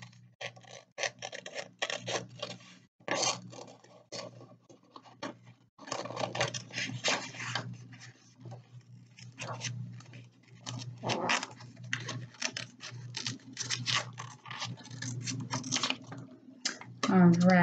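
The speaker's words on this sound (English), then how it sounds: "you're going to take your scissors and you're going to cut out those two hearts." Scissors snipping out paper hearts for a children's Valentine's craft, a quiet, busy patter of close cuts and paper rustle going on steadily, with a voice now and then.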